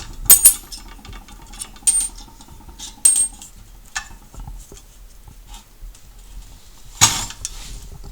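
Nails pulled by hand from a pneumatic hand crimp machine: several sharp metallic clicks and rattles spaced a second or so apart, near and fairly loud against a quiet background.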